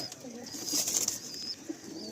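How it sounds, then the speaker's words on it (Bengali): Giribaz pigeons at a station-side sale coo softly, with a brief brighter call in the middle, faint and close against quiet background noise. "যারা গিরিবাজ পায়রা করেন একবার অবশ্যই এই পায়রাগুলোকে দেখতে পাবেন"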